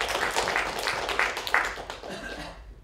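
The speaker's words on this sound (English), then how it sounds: "Could we give a round of applause for Dr." An audience at a Korean film festival forum panel applauds a panelist, a steady wash of clapping that swells slightly, then fades out toward the end.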